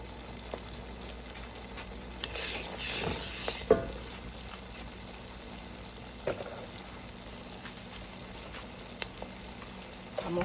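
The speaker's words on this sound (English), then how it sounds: "I'm also adding pepper to that. Already blended pepper. I'm frying it together as well." Blended pepper sizzles and fries steadily in a pot at low volume for oha soup, with occasional soft clinks and stirring sounds and no talking.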